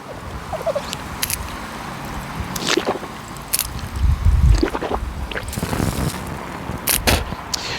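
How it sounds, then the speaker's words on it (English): Water splashing and sloshing in cupped hands and the mouth during the wudu mouth rinse, heard close as intermittent wet splashes and squelches against a low background hiss. "we will rinse our mouth 3 times as sunnah"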